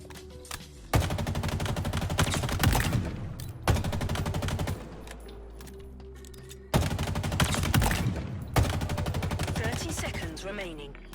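A weapon firing in Halo Infinite, long rapid bursts of gunshots pounding steadily and close, separated by short pauses, loud over faint in-game voices.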